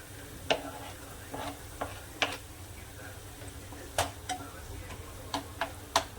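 Capsicum sautéing over low heat in a pan with onion for street-style Maggi, with faint sizzling and scattered scraping stir strokes of a spoon against the pan.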